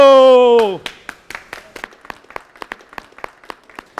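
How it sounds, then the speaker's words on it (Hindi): A game-show audience claps for the winning team after a sung or held tone fades, giving a thin run of distinct, fairly sparse hand claps that stay moderately near and steady. "टीम इदरीस के लिए एक बार फिर तालियां बजाएं"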